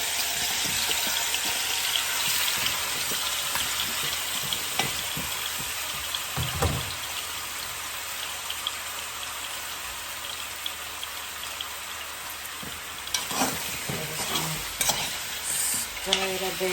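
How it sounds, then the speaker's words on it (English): Oxtail searing in a pot of oil gives a steady, dense sizzle with crackling pops and a few clatters from stirring, close and continuous throughout with no voices. "So now we're gonna add the oxtail to the pot."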